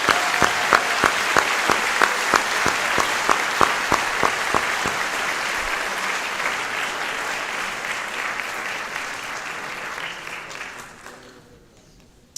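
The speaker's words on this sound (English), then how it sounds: "Please give them all a round of applause." Audience applause for award-winning scholarship students at a senior awards ceremony, with a burst of sharp individual claps at the start settling into a steady, dense roomful of clapping that gradually thins and fades out near the end.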